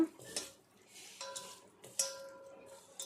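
Ground green chilli pickle ingredients are stirred with oil, bringing scattered clinks and scrapes of a spoon against a bowl, light and close, with brief pauses between strokes.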